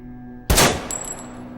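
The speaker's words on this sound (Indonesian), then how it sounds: "Martin mengajak Lisa ke sebuah bangunan kosong untuk berlatih menembak." A single sharp gunshot cracks out at close range during shooting practice in an empty building in a film, followed by a short ringing tail and a faint metallic clink.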